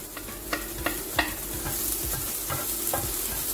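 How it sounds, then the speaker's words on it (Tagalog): Garlic sizzles steadily in hot cooking oil for pancit canton, with a spatula scraping and stirring the pan in repeated sharp strokes over the continuous frying hiss. "Ngayon guys, mainit ng mantika. Ilalagay na natin ang bawang."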